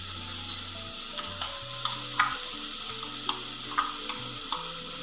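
Oil with a spoonful of coriander powder frying in a pan for a Malvani prawn curry, giving a low steady sizzle with a few sharp spoon clicks and scrapes while stirring.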